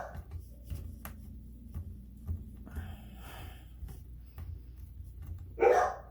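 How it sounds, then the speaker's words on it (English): A dog barks once indoors, close and fairly loud near the end, after a stretch of quiet room noise and low hum in a home craft space. "One dog outside barking, the other one's laying here and decides to just bark for no reason."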